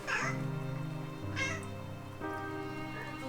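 A kitten gives a couple of close, clear meows, the first near the start and another a moment later, over a low steady room hum while acrylic painting goes on.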